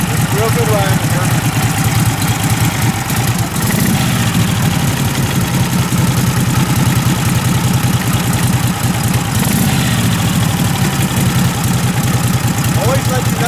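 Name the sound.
1947 Harley-Davidson EL Knucklehead engine idling while warming up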